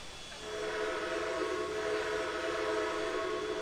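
In the Trainz 2022 simulator, the whistle of a Canadian Pacific H1 4-6-4 Hudson steam locomotive sounds as a steady, chord-like tone, held for about three seconds at moderate volume with no voices.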